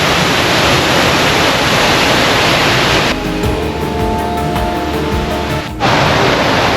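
Loud, dense roar of Fowleys Falls waterfall at Glenaniff, Ireland, fills the clip, briefly dipping in the middle, where a steady hum shows through, before the full rush returns.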